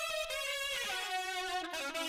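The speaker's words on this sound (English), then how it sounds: "by itself, the parallel saturation channel sounds like this" Saxophone alone through a parallel saturation channel, a Decapitator plug-in with its drive turned all the way up, playing a sustained, heavily distorted melodic line of a few held notes with thick, buzzy harmonics throughout.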